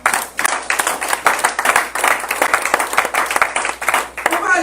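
A church congregation at a Sunday service applauds the Lord with loud, rhythmic group clapping that keeps a steady pulse throughout, with voices mixed faintly underneath.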